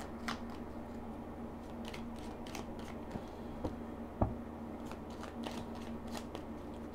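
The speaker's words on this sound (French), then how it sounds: "Je sais pas pourquoi je fais une coupe et après je brasse." Lenormand cards being shuffled by hand in a quiet room, a soft continuous riffling and sliding with scattered crisp card snaps, close and fairly faint over low background hum.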